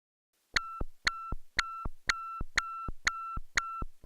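A raw tom setting on a Stylophone Gen X-1 synthesizer taps out eight evenly spaced, short tonal hits in steady rhythm, clean and isolated against silence.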